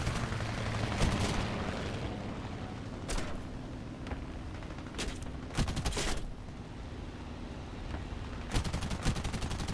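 A bomber's rear gunner fires a machine gun in War Thunder, giving short, rapid bursts of fire at irregular intervals over a steady engine drone, moderately quiet.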